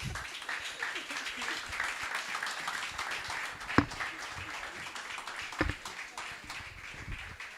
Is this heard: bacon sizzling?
no